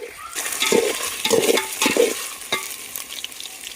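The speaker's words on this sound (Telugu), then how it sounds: "పన్నీర్ ముక్కలు అనేది మనం బాగా ఆయిల్లో ఫ్రై చేసేసుకున్నాం." Paneer pieces frying in oil, likely over a wood-fired stove, with a steady sizzle under repeated stirring scrapes and clinks of a spatula against the pan, several distinct strokes close by.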